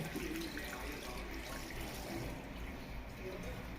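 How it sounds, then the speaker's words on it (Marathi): A steady, soft rush of water poured continuously from a metal pot to rinse fresh homemade paneer, with no talking. "असं तांब्यावर पाणी टाकून अगदी धुवून घेऊ"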